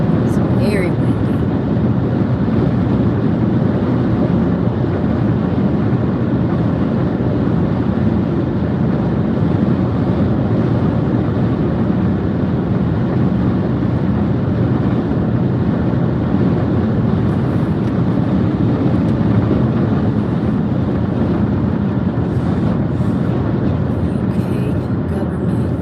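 Strong outdoor wind buffets the microphone in a continuous loud, rumbling roar for the whole stretch, steady and close, with faint voices under it.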